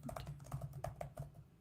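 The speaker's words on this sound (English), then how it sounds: "you can hear my keyboard typing here" Rapid computer keyboard typing picked up close by a desk microphone, a quick run of about a dozen crisp keystrokes in uneven rhythm with no talking.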